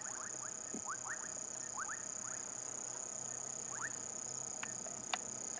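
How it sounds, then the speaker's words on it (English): A tiny dwarf puddle frog calls at sunset near a dam in African bush, giving short rising chirps in irregular clusters over a steady drone of insects. "a dwarf puddle frog"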